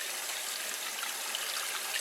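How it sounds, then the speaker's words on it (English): Warm water running steadily into a container while a whole chicken is being washed, a continuous hissing gush close by with no talk over it. "Right now I put in the warm water."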